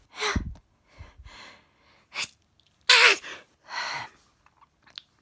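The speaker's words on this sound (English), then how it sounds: "Started sneezing." Several sneezes and sharp breaths from a person suffering jaw spasms at bedtime, bursting out in separate loud fits with snorts and gasping inhales between them, close and clear with no talking.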